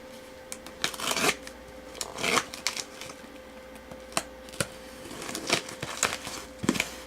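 A sealed shipping package of board games is cut open, giving a run of sharp slicing and tearing crackles with crinkling packing material, close and fairly loud, arriving in irregular bursts with no talk.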